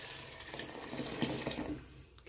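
Water pours from a vessel into rice in a pot for homemade chicken biryani, a short, close, continuous splashing gush that fades at the end, with no talk over it.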